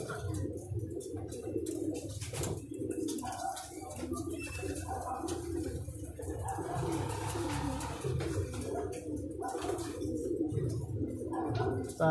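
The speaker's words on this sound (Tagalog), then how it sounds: "kasalukuyan dadating mga ibon natin" Racing pigeons coo near and steady as they arrive at their loft, soft repeated calls layered over a low rumble with occasional faint chirps.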